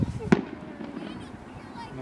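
A single sharp firework burst cracks out early and close, followed by a fading rumbling tail and faint crowd noise in an outdoor fireworks display.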